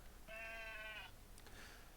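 A sheep in the video game Craftopia gives one clear wavering bleat lasting under a second, loud and alone, followed by a brief faint rustle.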